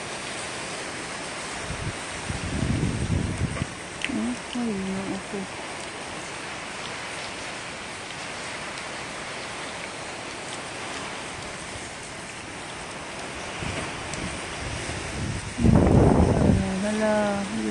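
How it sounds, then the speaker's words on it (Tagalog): Strong typhoon wind roars steadily outdoors in the small hours, with heavier gusts and rain-like rushes rising twice, while a person speaks briefly during the gusts. "Lakas pa din ang hangin."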